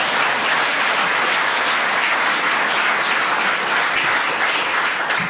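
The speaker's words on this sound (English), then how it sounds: "give Ramona a round of applause" A literary event audience gives a round of applause for Ramona Koval, a dense, even wash of clapping that holds loud and steady throughout without any talk.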